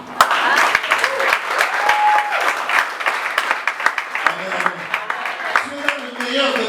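A church congregation bursts into applause during a French-language sermon on the resurrection of Jesus, with dense rhythmic clapping and cheering voices filling the whole stretch, steady and fairly loud throughout.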